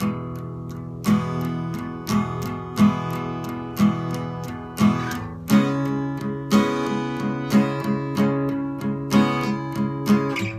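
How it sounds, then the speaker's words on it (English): Palm-muted acoustic guitar strumming in a steady rhythm, with soft chord changes and regular accented strokes, played alone: the verse of a song. "And the verse, he's definitely palm muting."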